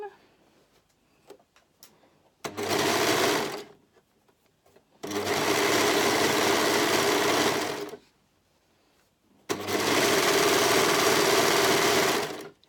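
Sewing machine stitching a seam on a brindle and twig lounge sweatshirt, three loud, steady whirring bursts of a few seconds each, separated by short quiet pauses with faint handling noise.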